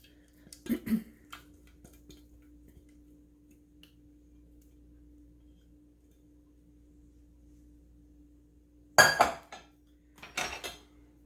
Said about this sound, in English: Use a spatula to make sure you clean it all out and you get all of it.